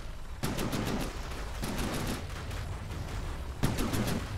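Large side-mounted cannons on a warship in the naval combat game From the Depths fire in repeated rolling volleys, with dense booming bursts and a steady rumble between them, heard alone without speech.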